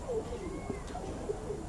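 Pigeons cooing at a breeding loft, a few soft low coos repeating close by over a quiet background.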